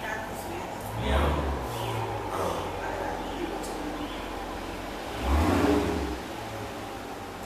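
A car engine idles outside with a steady low rumble, swelling into two louder revving surges, and faint voices sit in the background.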